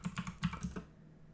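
A few quick keystrokes on a computer keyboard as a pip install command is entered, light close clicks in a short burst that stops after under a second, no speech.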